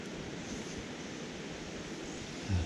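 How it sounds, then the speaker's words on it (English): Wind gusts across the River Yeo as a broad, steady rush of noise like distant surf, with a brief low buffet near the end. "Oh, it's wind."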